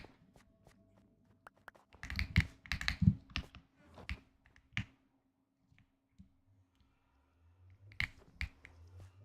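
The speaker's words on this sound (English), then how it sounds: "My keyboard is so clicky and I'm paranoid it's too loud" Clicky mechanical computer keyboard typing close up, with bursts of sharp, rapid key clicks in uneven clusters separated by quiet pauses and a faint low hum beneath.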